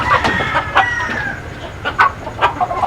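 Chickens cluck and squawk close by at a farm pen after one bird gets loose, short irregular calls repeating across a few seconds with no talk.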